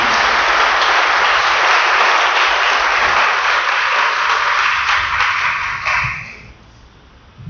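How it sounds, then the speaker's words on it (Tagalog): A church congregation at a Tagalog service bursts into loud, sustained applause, a thick wash of many hands for about six seconds before dropping off abruptly into quiet. "bigyan natin ang pinakamalakas na palakpak sa Panginoon"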